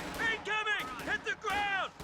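Artillery barrage in a real-time strategy video game: a few quick booming salvos in close succession, fairly loud, with a voice speaking over them.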